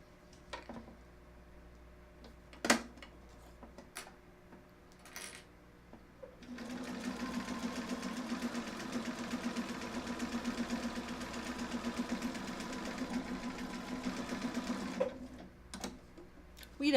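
Sewing machine running a top stitch, starting after a few light clicks and humming steadily and evenly for about eight seconds before stopping, close and fairly quiet with no talk.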